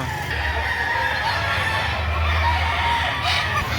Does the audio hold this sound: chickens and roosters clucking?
yes